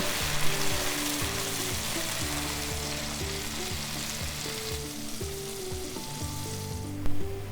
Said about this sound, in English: Add 1/3 cup of white wine and reduce the wine.